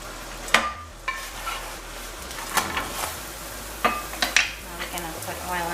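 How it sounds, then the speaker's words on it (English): Squash and tomato frying in a pan, a soft steady sizzle under scattered stirring scrapes and light utensil taps. "we'll let the squash continue to cook with the tomato now"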